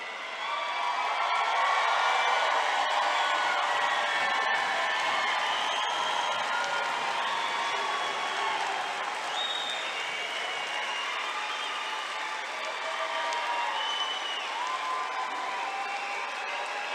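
Graduates at a spring undergraduate commencement applaud and cheer, a dense, sustained wash of clapping from a large crowd with scattered shouts and whoops rising above it, continuing at a steady level throughout.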